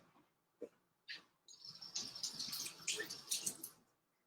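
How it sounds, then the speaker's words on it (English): Water runs from a tap over food being rinsed during cooking, a splashing gush after a couple of brief knocks. "I'm gonna give this one a quick rinse."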